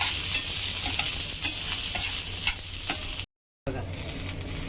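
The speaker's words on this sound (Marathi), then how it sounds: "तीळ आणि खसखस, हिरव्या मिरच्या, लसूण, आलं, आता आपण हे व्यवस्थित भाजून घ्यायचं" Sesame, poppy seeds, green chillies, garlic and ginger dry-roast in a pan for kharda, with a continuous close crackle and frequent stirring scrapes, briefly cut to silence before resuming.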